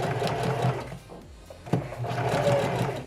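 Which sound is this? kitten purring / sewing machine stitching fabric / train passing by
sewing machine stitching fabric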